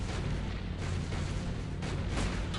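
Gunfire striking a marble Abraham Lincoln statue in the Sam and Max adventure game, a steady, loud wall of blasts and impacts with no pause.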